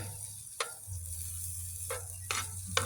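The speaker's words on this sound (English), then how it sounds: "I'll just throw the butter right in on top of the chanterelles and the potatoes" Butter sizzles in a pan over chanterelle mushrooms and potatoes, a steady bright hiss with a low hum beneath, broken by a few sharp scrapes and clicks, no talking.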